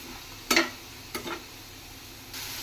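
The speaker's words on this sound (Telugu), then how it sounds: "ఇప్పుడు మనం ముందుగా తరిగి పెట్టుకున్న టమాటా ముక్కలు కూడా వేసుకుందాం మంచిగా కలిసేగా తిప్పుకుందాం మొత్తం కర్రీ అంతా" Chopped tomato pieces drop into a sizzling pan of onion and dried prawn curry, then get stirred. Two clattering spoon knocks against the pot sound up close, followed by a soft, steady sizzle.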